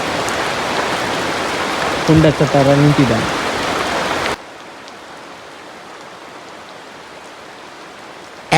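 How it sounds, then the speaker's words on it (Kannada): Rain falls steadily as a broad, even wash of noise, with a voice speaking briefly over it partway through before the sound drops to a quieter hush. "ಮಳೆ ಬಂತು ಗಾಯ್ಸ್, ಮಳೆ"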